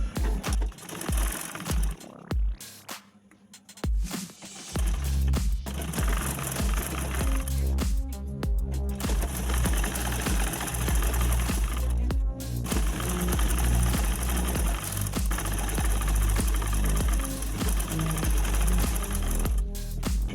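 Domestic sewing machine stitching the side slit of a Naira-style dress, running in loud, steady mechanical bursts with a brief pause near the start, no voices.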